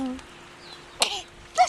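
A person sneezes twice, a sharp burst about halfway through and another near the end, close by, with a voice and light talk around them.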